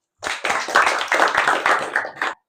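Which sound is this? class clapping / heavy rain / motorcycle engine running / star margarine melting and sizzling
class clapping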